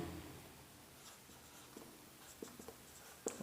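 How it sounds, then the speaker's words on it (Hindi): Pen scratching on paper while filling in a share capital accounting solution, faint and close, with a few short strokes and taps in the second half and no talk. "तो यहाँ पर लिखेंगे"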